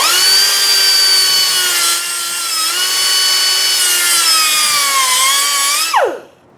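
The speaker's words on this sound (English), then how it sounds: "So now we're going to take and grind a little mark right here." Steady grinder whine while grinding a small mark on a Ford F350 truck, a loud sustained tonal drone that holds for about six seconds, dips briefly in pitch, then winds down and cuts off.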